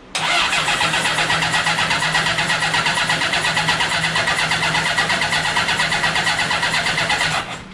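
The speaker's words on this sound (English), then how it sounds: "Let us crank it over and see what we have." A 750cc cross kart engine cranks over steadily for about seven seconds, a loud, close, rapid churning rhythm that never catches, then cuts off.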